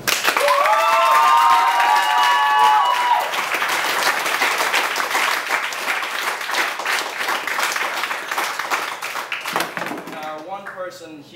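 A club crowd gives a loud, sustained round of applause for its sponsor. The dense clapping is mixed with cheers and whoops, then slowly thins toward the end, where a voice comes in.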